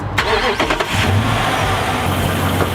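Chrysler 300C engine starting after an oil change: a quick cranking burst, then the engine catches and settles into a steady idle, close and fairly loud.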